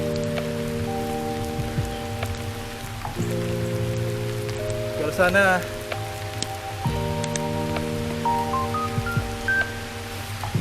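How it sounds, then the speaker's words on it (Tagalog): Rain falling steadily during a group bike ride in Bataan, a constant wash of drops heard throughout, with brief voices speaking and a few tonal beeps over it. "Naabutan na kami ng ulan."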